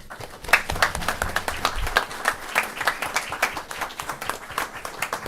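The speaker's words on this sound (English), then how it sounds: "Let's give her another round of applause." A small audience at a board of education meeting claps, a sparse round of individual hand claps with distinct sharp hits, rising quickly and continuing unevenly throughout.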